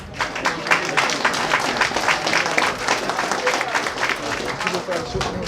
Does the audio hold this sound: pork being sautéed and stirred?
no